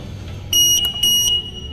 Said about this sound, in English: We should get 2 beeps once the limit is hit.